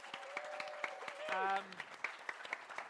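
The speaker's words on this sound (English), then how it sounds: "Give a massive round of applause for Mya Bambrick, Elle Kaye and Nick Acheson." Applause from a live audience at a podcast show recorded at Global Birdfair, faint scattered clapping with a short tonal sound and a voice briefly over it.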